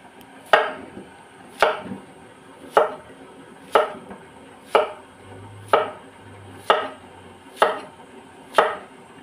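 Labong bamboo shoots are chopped with a knife on a board, about nine loud, evenly spaced thwacks roughly a second apart, with no talk.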